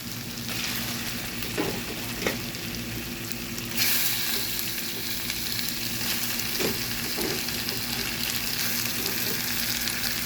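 Chicken sizzles in a hot pan for a pepper chicken fry: a dense, continuous frying hiss with a few scraping stir strokes, growing slightly louder partway through.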